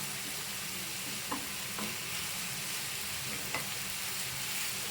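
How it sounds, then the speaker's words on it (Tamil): Onions sauté over a medium flame for an egg thokku, giving off a steady, even sizzle with a few faint taps of a spatula against the pan. The frying is moderately quiet, and nobody speaks. "நல்ல ஒரு மீடியம் ஃப்ளேமில் வச்சு வெங்காயத்தை வந்து நல்ல ஒரு கோல்டன் கலர் வர"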